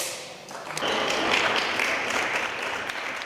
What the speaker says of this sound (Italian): Un timido applauso accoglie al municipio di Chioggia l'annuncio del ministro Dario Franceschini in collegamento da Roma.